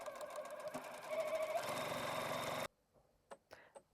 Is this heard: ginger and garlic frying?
no